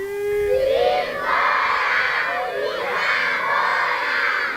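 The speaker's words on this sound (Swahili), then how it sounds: "Shangwe kutoka kwa wanafunzi wa shule ya msingi Nzuguni A baada ya kufikiwa na timu ya maofisa wa mauzo na masoko ya Azam FC." Primary school pupils at Nzuguni A in Dodoma cheer together as a crowd, loud sustained high-pitched shouting and yelling in waves, close and filling the scene.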